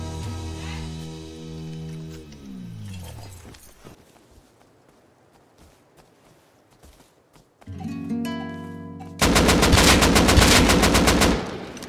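AK rifle gunfire in the game Rust: after a descending tonal passage and a quieter gap, loud rapid automatic bursts erupt near the end, dense and sustained.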